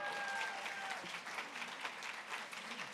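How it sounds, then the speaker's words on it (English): Applause at a charity gala dinner, a steady wash of many hands clapping together for the catering staff, moderately distant and continuing evenly through the whole stretch. "So let's give them a round of applause."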